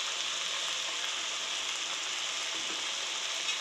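Ginger-garlic paste and tomato paste fry with onions in a pan for aloo dum, giving a steady, even sizzle that stays close and fairly loud throughout, with no talking.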